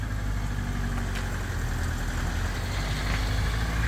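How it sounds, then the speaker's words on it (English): A Jeep 4xe sits idling with a steady, clattery low rumble like a diesel, constant and fairly close, with no talk over it. "That's a diesel right there"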